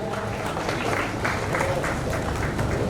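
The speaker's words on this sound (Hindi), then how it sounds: "Please come on the stage, जोरदार ताली बजाएं।" Applause at the Talent Award Barwani 2024 ceremony as a guest is called onto the stage, a brief steady patter of many clapping hands lasting about three seconds, moderately loud, with faint crowd murmur mixed in.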